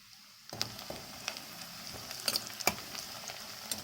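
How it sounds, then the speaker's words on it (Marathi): Onions frying in a pan for a dry chicken dish, a steady close sizzle with crackles and a few louder pops, no voices. "तर आपले कांदे पण फ्राय झाले"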